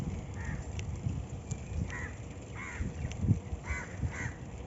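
Crows and other birds call throughout an open area of Pasir Ris Park. Harsh caws repeat at irregular intervals, some near and some farther off, over a constant outdoor murmur.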